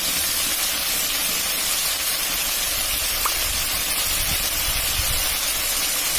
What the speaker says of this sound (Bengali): পেস্টটা ভেজে নেই, তারপর মশলাটা দিয়ে দেবো।